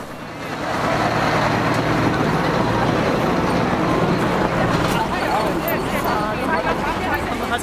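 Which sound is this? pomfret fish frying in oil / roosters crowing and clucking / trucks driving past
trucks driving past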